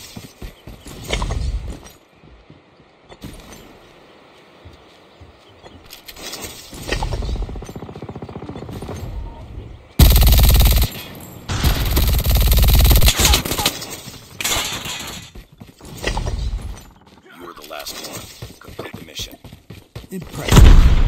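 MG42 machine gun fire in Call of Duty multiplayer, loud rapid bursts crackling in several sustained volleys with gaps between, mixed with other game effects and a voice speaking.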